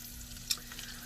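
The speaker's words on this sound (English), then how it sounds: "The garlic is sizzling." Chopped garlic sizzles in a hot pot during soup preparation, a soft, steady frying crackle with one brief sharper spike, quiet and close with no talking.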